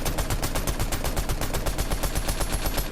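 Rapid automatic fire from a Striker AR in Fortnite, a fast, even stream of sharp shots that runs without break at close range.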